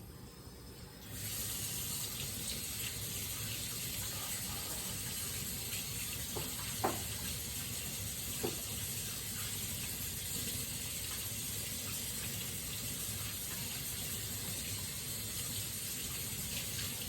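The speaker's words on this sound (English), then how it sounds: "now I'm gonna go wash my hands real quick" Running tap water while washing hands in a home kitchen, a steady gushing stream that starts abruptly and continues unbroken, close and even, with a couple of faint knocks.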